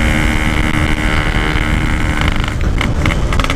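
Motorcycle engine held at full throttle while riding, a loud, dense, continuous roar with steady high-pitched whine, close and unbroken for a few seconds.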